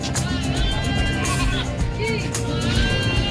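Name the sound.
goats bleating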